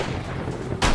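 Gunfire in the video game 7 Days To Die during a blood moon night: a dull rumbling background, then one sharp loud gunshot blast near the end.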